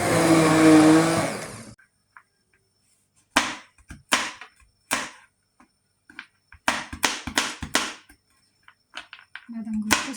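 A kitchen blender chopping nuts roars in one loud, continuous burst at first. It then switches to a series of short, sharp pulses separated by silences, heard up close.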